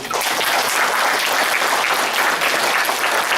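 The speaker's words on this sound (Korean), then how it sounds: "밑에 박수 한번 쳐주세요" Sustained applause from a youth audience at a history lecture in a museum hall, a dense, steady wash of clapping that holds at an even loudness throughout with no break.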